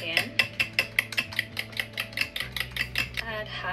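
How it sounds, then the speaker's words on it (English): A whisk beats pancake batter with yogurt in a bowl, making a fast, even run of close metallic clicks, about four per second, with no talk. "I'm just going to do 1 tablespoon of yogurt and whisk again."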